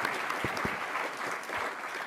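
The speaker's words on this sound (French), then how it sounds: "On peut vous applaudir." An audience claps after a business talk at a morning event, a dense burst of applause from a crowd filling the room at moderate volume, with no voices over it.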